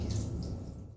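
Tap water running fast over small crabs being washed in a sink, a close, steady gush and splash that tapers off near the end, no voices.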